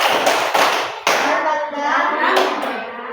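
Hands clapping a rhythm in a classroom-style group cheer, a few sharp claps at irregular spacing over a sustained wash of voices, loud and close.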